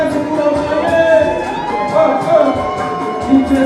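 Guests at a Congolese customary wedding cheer and whoop together, a lively crowd of overlapping voices with swelling shouts rising and falling throughout.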